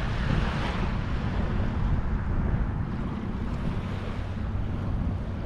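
Ocean waves on a wild beach in New York make a constant heavy roar of surf, mixed with strong wind buffeting and no voices.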